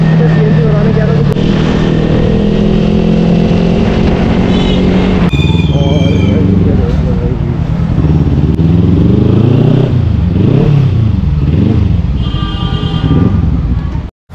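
A motorcycle engine runs close by throughout, its steady rumble swelling and easing as it revs, with clatter and a voice talking over it at a busy spot.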